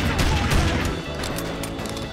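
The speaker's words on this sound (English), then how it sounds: "Sorry, I'm gonna have to shoot you." Dense, continuous gunfire and crashing effects from the video game Family Guy Back to the Multiverse fill the short stretch, loud and cluttered throughout.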